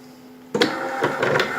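An embroidery machine kicks on after a low hum and starts stitching, its needle driving in a quick rhythmic chatter of near, moderately loud pulses with no talking.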